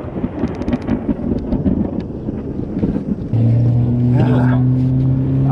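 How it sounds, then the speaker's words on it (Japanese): Thunder from a sudden storm rumbles over a black sea bream fishing spot, heard as low rolling noise with scattered knocks, then a steady engine-like drone joins from partway through; no speech. "雷、怖い怖い。"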